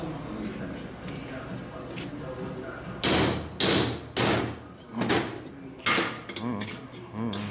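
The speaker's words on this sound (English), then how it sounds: "Now I'm going to take this same bushing, the one that's supposed to fit this, and knock it in here." Hammer blows drive a bushing into a Ford 4R70W-family transmission tailhousing: about six sharp metallic knocks in an irregular rhythm, close and loud, following a quieter stretch with someone talking.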